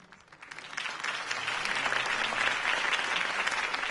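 A large crowd claps and cheers after a Harvey Dent mayoral campaign speech in Gotham; the applause swells within the first second into a loud, dense, sustained roar that stays steady to the end.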